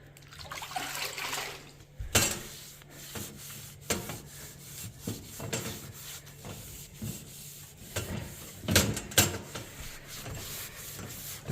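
Wet scrubbing of a nicotine-stained wall with TSP solution, a steady rubbing and swishing texture with sharper sponge strokes and drips scattered throughout, close and moderately loud, no talking.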